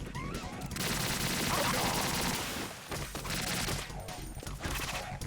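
An AK assault rifle fires in Metal Gear Solid 2 as dense, loud, sustained automatic bursts. A brief gap comes midway, then more firing follows, mixed with other game sounds.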